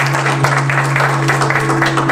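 Applause from a church congregation at a Sunday family service, a dense wash of clapping heard over a steady low electrical hum, loud and continuous for about two seconds with no talking.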